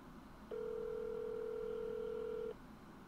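A telephone call rings out unanswered, heard as a single steady ringback tone lasting about two seconds against quiet background noise.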